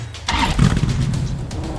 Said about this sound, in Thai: Get in the car.